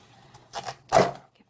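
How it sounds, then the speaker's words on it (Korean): A knife cuts a peeled radish into thick chunks, about 3 cm, on a cutting board while braised mackerel is being prepared, giving two close, dull chopping thuds, the second louder, with quiet gaps around them. "무는 좀 큼직하게 썰어주세요"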